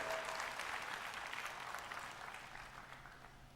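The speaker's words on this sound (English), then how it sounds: "I think this calls for a huge round of applause for all the volunteers who've been here." A crowd at a retreat anniversary gathering gives the volunteers a round of applause. The dense clapping starts strong and slowly fades over a few seconds.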